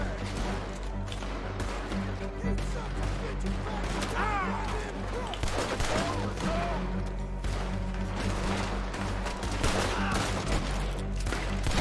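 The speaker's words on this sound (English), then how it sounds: "I didn't realise I could shoot whilst carrying." Gunshots ring out in Red Dead Redemption 2, fired while the character carries something, as a dense run of shots over busy, continuous game sound and music.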